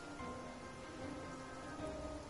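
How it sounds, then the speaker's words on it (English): Steady rain falls in the video game Genshin Impact, a soft, even hiss that stays quiet throughout, with faint sustained musical tones above it and no speech. "Since it's raining, it's automatically gonna give us like those blooms."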